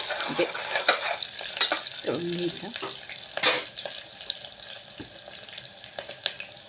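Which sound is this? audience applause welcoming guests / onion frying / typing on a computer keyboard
onion frying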